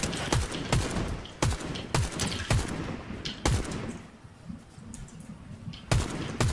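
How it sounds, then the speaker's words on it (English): Repeated sharp gunshots from a DMR in the video game Fortnite, fired in irregular single cracks and short bursts with a few pauses between, loud and close, with no talking over them. "well, I guess we just shoot them then."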